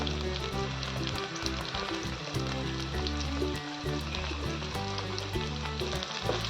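Green chilies fry in hot oil for a traditional Maharashtrian green chickpea leaf dish, with a dense, continuous close sizzle and crackle that stays steady throughout.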